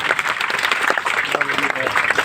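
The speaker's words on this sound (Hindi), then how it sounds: "ताली बजाओ एक बार तो डोली का।" Audience clapping at a Rajasthani comedy stage show, a dense, continuous burst of applause with a voice talking over it.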